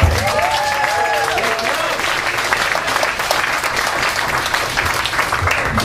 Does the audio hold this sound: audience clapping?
yes